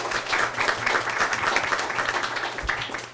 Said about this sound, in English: A round of applause for those students as well.